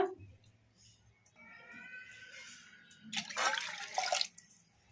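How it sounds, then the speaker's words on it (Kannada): Water is poured from a cup onto washed toor dal for palak sambar, a soft trickle that swells into a louder, close gushing pour near the end, with faint kitchen sounds beforehand. "ಈಗ ನೀರು ಹಾಕೋಣ ನಾವು ಯಾವ ಕಪ್ಪಿಂದ ತೊಗರಿಬೇಳೆ ತೊಗೊಂಡಿದ್ರೆ ಆ ಕಪ್ಪಿಂದ ಎರಡು ಕಪ್ ನೀರು ಹಾಕೋಣ"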